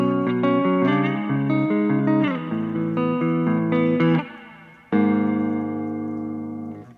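An electric guitar plays sustained chords through a Joyo Atmosphere reverb pedal, each strum ringing out into a long, washy tail. There are several strums, then a brief fade and one final chord that decays slowly, loud and close with no talking.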